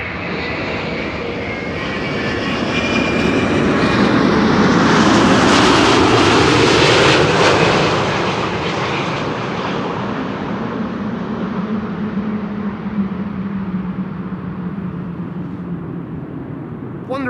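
An airliner lands at Amsterdam Schiphol, a KLM flight from Lima: loud, broad engine roar that swells to a peak and then eases into a sustained rumble as the plane rolls out, with no voices.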